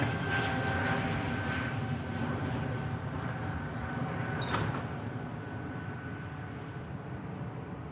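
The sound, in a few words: aircraft engine at Manchester Airport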